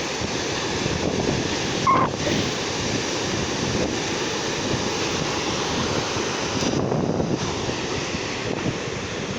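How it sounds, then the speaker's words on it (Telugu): Rough sea waves break at a beach in the rain, a steady, loud surf roar with wind buffeting the microphone throughout and no voices. "సముద్రం ఎంత చూడడానికి ఎంత అందంగా ఉంటుందో అంత అలా కల్లోలంగా ఉంటుంది"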